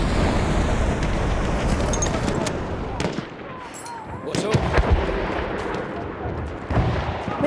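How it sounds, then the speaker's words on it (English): Gunfire and explosions in the World War I shooter Battlefield 1, with a machine gun rattling among dense, continuous loud battle noise and artillery blasts close by. "Machine gun, one of theirs."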